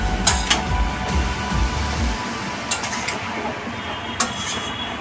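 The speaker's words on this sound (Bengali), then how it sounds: "এইভাবে এইভাবে নাড়তে থাকবেন, শাকগুলো মিশে যাবে তরকারির সাথে" Bottle gourd greens are stirred in a cooking pan, a spoon clinking and scraping against the metal in irregular close knocks over a low background hum.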